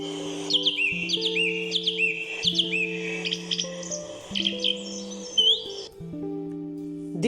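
A song thrush sings a lively, varied song of repeated whistled phrases, close and clear, over a steady low tonal drone in the background.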